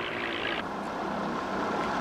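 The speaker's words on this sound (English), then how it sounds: "Must be one of those airplanes I've heard them talk about so much lately." A propeller airplane drones overhead in a film scene, a steady, fairly loud engine hum that shifts slightly in pitch as it passes, with no talk.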